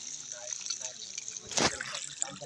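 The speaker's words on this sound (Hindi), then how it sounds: "ऐसा पानी चलाना पड़ रहा है यहाँ पे" Water runs steadily from a tap at a work site, a continuous trickle with a brief louder gush partway through, and a voice talks faintly underneath.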